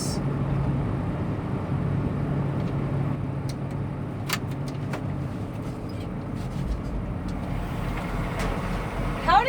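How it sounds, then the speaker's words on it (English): A farm vehicle rolls through wet, mushy mud during silage chopping, a steady low engine rumble with sloshing and squelching underneath and a few sharp clanks, close and continuous. "Looks like we're driving through some gushy, gushy, mushy mud here."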